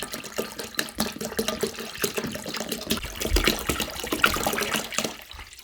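Bottled water pours steadily over salted cabbage for white kimchi, a continuous splashing trickle at moderate loudness that tapers off at the end.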